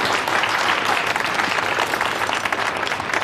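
An audience applauds two tied contestants in a design competition, a dense and steady round of clapping that stays even and fairly loud for several seconds with no speech over it.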